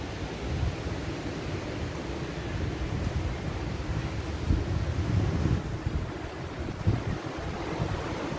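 Surf rolling in at high tide on the far western end of Tamarindo Beach, a steady broadband wash of waves with wind buffeting the microphone, no voices.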